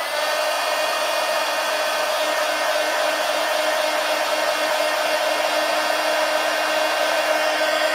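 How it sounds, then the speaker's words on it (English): A heat gun blows steadily and loudly, an unbroken whooshing hum with a faint whine that stays constant and close for the whole stretch. "Now let's go in here with heat gun."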